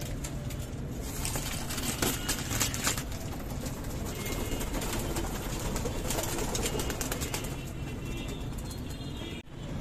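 Pigeons in a loft coo and flutter after the net is opened, a busy layered mix of bird sounds with faint traffic in the background.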